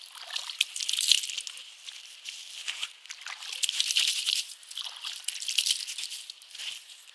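Water splashes and dribbles close by in repeated surges, handfuls being scooped and splashed onto a face during ritual washing.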